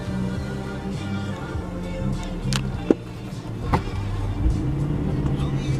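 A car with a BMW M54 engine accelerates nearby, its engine note rising and shifting through gears beneath road noise, with a brief sharp knock midway.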